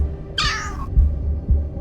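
A summoned cat in Solo Leveling: Arise gives a single clear, drawn-out meow lasting about half a second, set over a low game soundscape with soft thuds afterward.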